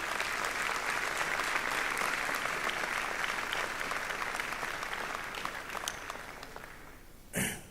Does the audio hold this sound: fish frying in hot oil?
no